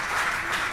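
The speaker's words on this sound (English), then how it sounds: "Thank you for that very much appreciated applause." Audience applause fills a lecture hall as a dense, steady burst of clapping, brief and fairly loud.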